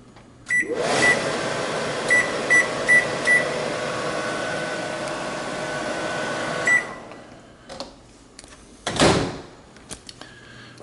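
Microwave oven in a home kitchen running with a steady hum, with a few beeps near the start and one at the end, followed by door clunks and a louder thump, close.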